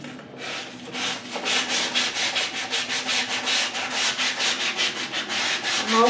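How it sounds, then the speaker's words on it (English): Rhythmic back-and-forth sanding of a cradled wood panel's edge, a steady run of close, raspy strokes repeating quickly and evenly without any talking. "just continuing to sand a little bit of that side off"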